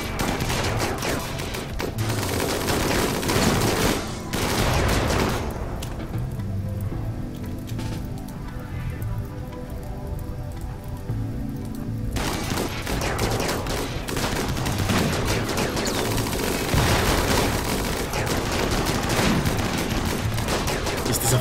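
Firing squad gunfire in the game RimWorld, with dense, continuous crackling volleys of shots that briefly thin out in the middle before resuming at full intensity, loud and sustained with no voices.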